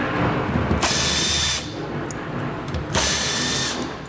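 A power drill fitted with a 7mm socket removes screws while a base plate kit is installed on a 2021 Chevrolet, in two loud whirring bursts over a steady background hum; it is close, with no talk.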